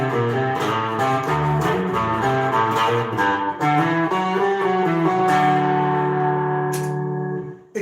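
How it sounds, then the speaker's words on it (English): An electric guitar runs through a Hot Tubes overdrive pedal with its clean blend, ringing chords and slowly changing notes with a lightly driven, chorus-tinged tone, loud and close, then decaying into a fading sustain. "Then I got my hot tubes on with the clean blend."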